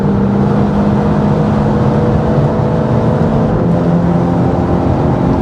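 Hot hatch with about 300 horsepower accelerating hard on the Nürburgring, a steady loud engine drone with road and wind roar filling the whole stretch, no talk over it.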